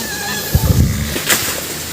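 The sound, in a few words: horse neighing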